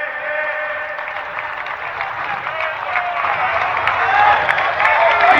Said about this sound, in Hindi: जोरदार तालियों से हम हमारे नेताओं का स्वागत करेंगे।